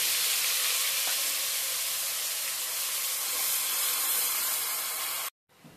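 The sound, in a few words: onion paste frying in hot oil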